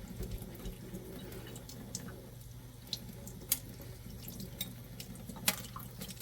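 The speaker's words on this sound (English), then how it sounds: "we turn on a little bit of the cold water running" Cold water runs steadily from a kitchen tap at low flow while hard-boiled eggs are peeled beneath it, a faint continuous trickle with a few sharp clicks and taps of shell breaking.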